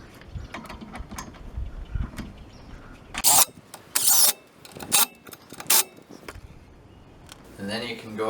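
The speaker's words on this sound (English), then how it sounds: "Now we can tighten up these 10 millimeter bolts down here." A ratchet tightens 10 mm bolts on an air suspension shock of a Buick Park Avenue Ultra, with several loud, sharp clicking bursts close by, mixed with clanks and a voice talking.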